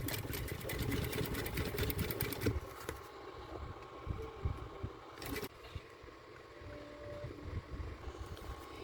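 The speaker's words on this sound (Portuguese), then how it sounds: "eu venho com o meu pé de máquina passando aqui rente, esse lado de cá" A sewing machine stitches a zipper onto clear plastic, running a close third seam alongside the middle one; a steady mechanical whir with rapid stitching pulses for about three seconds, then quieter intermittent machine sounds and handling noises.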